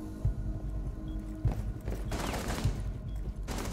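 Three sharp gunshots from Rainbow Six Siege ring out at roughly even intervals of just over a second, each a punchy thud over a steady bed of game noise.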